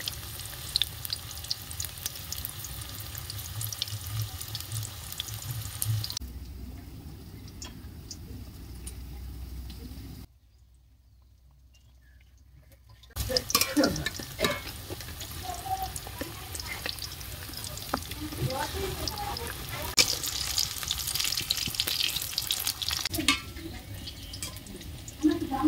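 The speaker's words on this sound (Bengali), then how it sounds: "তো দেখো এক একটা করে ইঁচড় আমি তেলের মধ্যে দিয়ে দেবো।" Young jackfruit pieces fry in hot oil with a steady, broadband sizzle and crackle. The sizzling fades quieter, drops out completely for a few seconds, then returns loud and busy until the end.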